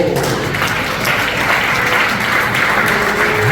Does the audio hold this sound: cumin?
no